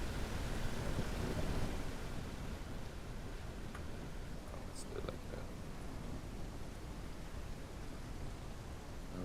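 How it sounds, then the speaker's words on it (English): Steady, heavy rain in the video game Ranch Simulator hisses loudly throughout as a broad wash of noise, with someone speaking quietly beneath it. "the rain is really loud"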